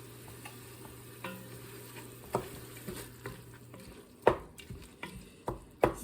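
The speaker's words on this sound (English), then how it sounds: "So I'm just sauteing this up" Frozen tomatoes being sautéed in a pot, with a soft constant sizzle beneath scattered scraping and tapping stir strokes that land irregularly, close and fairly quiet, with no one speaking.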